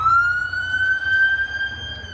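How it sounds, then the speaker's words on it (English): A siren wails with a rising, steady tone, fairly loud and somewhat distant, over low traffic rumble. "Now do you hear that ambulance?"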